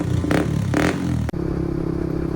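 A Suzuki Raider 150 Fi motorcycle with an aftermarket exhaust revs close by in two quick throttle bursts, then a brief cut and a steady, throbbing idle.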